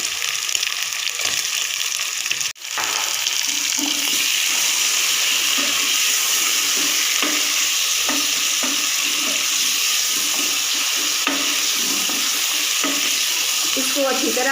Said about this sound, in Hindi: अब मैं इसके अंदर अदरक लहसुन का पेस्ट और साथ मटन डाल के 10 से 15 मिनट के लिए मैं इसको भूनूंगी।